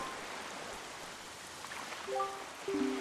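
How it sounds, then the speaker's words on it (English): Rain falls steadily on a cursed island in The Legend of Zelda: Wind Waker, a soft, even hiss of in-game rainfall with faint musical tones rising near the end. "this place suffers under dark clouds and rain"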